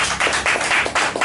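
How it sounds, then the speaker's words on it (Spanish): A church congregation claps in rhythmic bursts of applause for Jesus during a Sunday morning service, close and fairly loud, with a few brief pauses between rounds. "Denle un aplauso al Señor Jesús en esta mañana."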